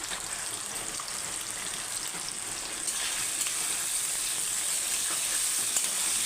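Chicken pieces seasoned with turmeric and salt sizzle and fry in a pan over a medium gas flame, a continuous close hiss that grows slightly louder midway, with faint stirring.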